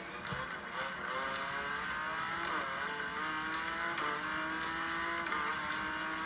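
Engine of a car drifting around corners in a racing video game, a continuous revving whine whose pitch rises and falls as the car slides through turns, steady and moderately loud with no talking over it.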